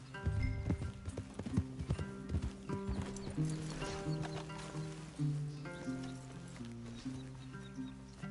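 Horses in the video game Red Dead Redemption 2, with close clip-clop hooves at a slow walking pace, occasional whinnies and snorts, and soft musical tones underneath; fairly quiet overall.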